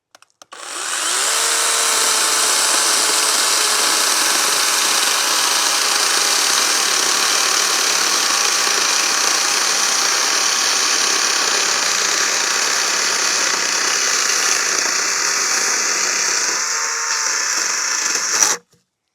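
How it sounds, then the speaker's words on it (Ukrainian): A GTM CS18/250BL 18V cordless chainsaw cuts through a pine log about 10 cm thick, a loud, steady high-pitched motor whine with chain rasp running unbroken for around seventeen seconds before stopping abruptly. "розпочнемо тест нашої пилки на ось такій сосновій колоді"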